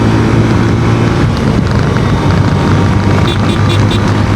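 A motorbike speeds along a road, its engine and rushing wind forming a loud, steady roar that continues for the whole stretch, with no break.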